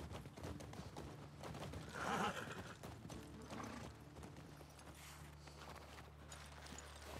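Horse hooves clip-clopping in The Last of Us Part II, a steady walking rhythm close by under game ambience and music, with a brief louder swell near the two-second mark.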